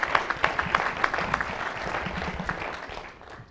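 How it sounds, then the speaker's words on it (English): A round of applause from the audience at a college business entrepreneurship event, with distinct individual claps in a fairly sparse, moderately loud patter that thins out toward the end. "Give a round of applause."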